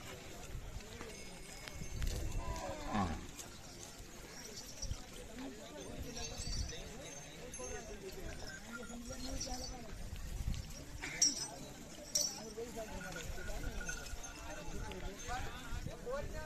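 Deoni breed oxen shift and step at a busy cattle market in Maharashtra, with faint hoof clops scattered beneath steady nearby talk and background market bustle.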